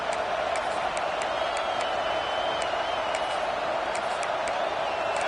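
Steady roar of a stadium crowd in a Madden football video game, a dense, continuous wash of noise with no breaks, holding at an even level throughout.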